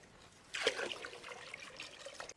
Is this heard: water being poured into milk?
yes